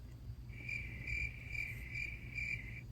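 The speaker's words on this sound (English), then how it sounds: "Exactly. Crickets." Crickets chirp in a steady pulsing trill, several evenly spaced bursts ringing over a low background hum, with no voices.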